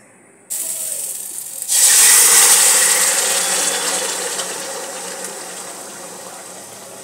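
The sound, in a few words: pouring flour mixture into milk in a wok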